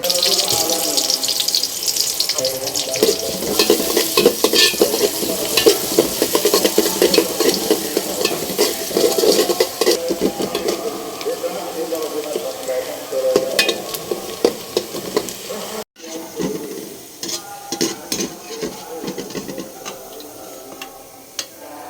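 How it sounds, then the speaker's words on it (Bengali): Onions fry in oil in a pot for beef biryani, giving a steady crackling sizzle broken by frequent scraping and clinking of a spoon stirring, and the sound grows quieter and sparser after a brief gap. "এর মধ্যে আমি পেঁয়াজটা আগে ভাজবো, বেরেস্তাটা করব"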